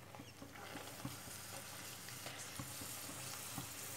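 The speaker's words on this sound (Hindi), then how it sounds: "जब तक इनका कलर डार्क ना हो जाए तब तक हमें इनको तलना है, तभी ये क्रिस्पी और करारे बनेंगे।" Gol gappe puris frying in hot oil, a steady soft sizzle with faint bubbling pops, quiet and alone.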